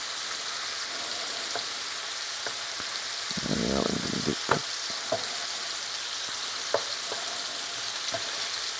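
Firecracker sausage browning in a pan over medium-high heat, a soft continuous sizzle with occasional sharp pops and a brief stir or scrape midway, close and steady.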